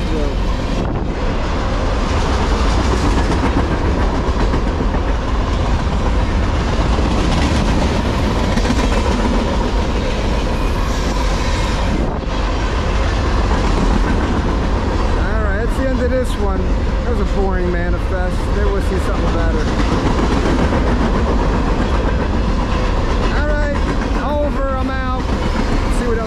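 A train rumbles past at close range, a loud, steady roar with wind buffeting the microphone and squealing, clattering wheels toward the end.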